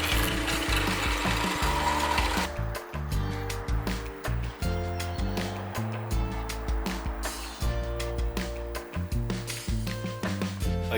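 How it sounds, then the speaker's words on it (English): A drill bores through a stainless steel Allen head cap screw on a KTM 790 Adventure R motorcycle, giving a steady mechanical whir with rapid rhythmic ticking and grinding that stays close and fairly loud. "I'm now drilling a hole through this stainless steel Allen head cap screw."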